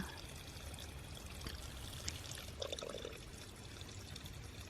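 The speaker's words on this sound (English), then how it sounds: "It's actually there to help you collect water from the trickle that comes from further up the stream." A thin stream of water trickles from a pipe spring fed by a stream on the Pacific Crest Trail, making a soft, continuous splashing over a constant outdoor hiss.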